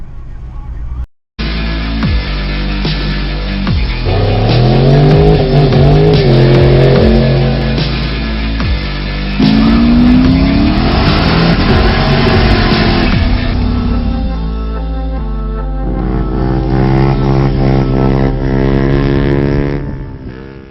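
A Honda Civic engine fitted with decapped LS truck injectors runs loudly up close, idling with a steady drone and then revving up and down in rising and falling sweeps, while people talk over it.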